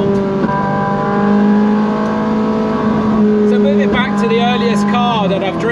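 A Ferrari 458 engine revs up close, holding a loud, sustained, shrill note that rises and falls in pitch for several seconds.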